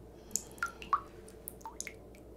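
Water drips in a quiet, dark setting from a horror short film: several distinct, sharp drops land at irregular intervals against a low hiss of background.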